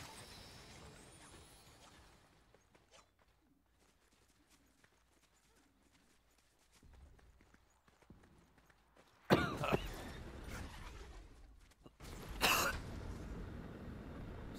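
Someone under the weather coughs twice near a microphone, a burst of harsh, noisy coughing followed a few seconds later by a sharper second cough, after a quiet stretch with faint background noise.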